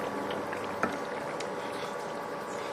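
Fish curry made with mustard and drumstick simmers at a steady bubbling boil in a pot, a soft continuous burble with one small pop partway through, close and fairly quiet, with no talking.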